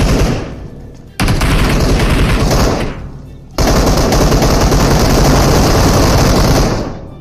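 Loud, sustained automatic gunfire in the mobile battle game PUBG Mobile, heard in two long bursts separated by a short pause, close and dominating.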